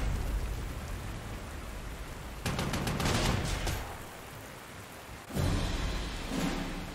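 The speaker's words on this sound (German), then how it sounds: "Da es in dieser Runde regnet" Rain in the strategy video game Panzer Corps 2, a steady hiss of falling rain with louder rushing swells partway through and again near the end, no voices.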